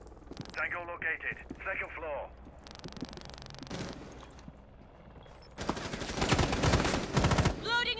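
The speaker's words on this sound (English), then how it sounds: "Shots are being fired, but nothing connects." Gunfire in Rainbow Six Siege during a college esports match, Marietta College against Drexel University: scattered bursts of shots, some muffled and some sharper and louder near the end, mixed with game sounds and a commentator talking.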